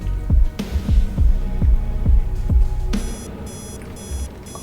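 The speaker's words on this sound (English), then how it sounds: "Alarm." A morning alarm clock sounds in a 1990s apartment as a rapid series of loud, evenly spaced pulsing beeps, switching to a higher pattern of repeated bleeps toward the end, with no talking.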